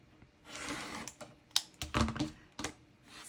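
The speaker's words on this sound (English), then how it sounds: "Okay, so now I've got it, and I'm going to trim." Fabric quilt blocks being trimmed, probably with a rotary cutter, giving a close series of quick scraping cuts and light clicks, with short bursts separated by brief pauses.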